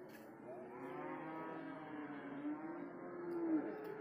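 Cattle at a livestock market in Wonosobo, with one long, low, drawn-out moo rising and swelling near the end over faint background murmur.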